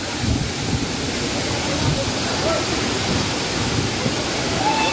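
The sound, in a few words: Kasarval waterfall in Goa, water pouring from holes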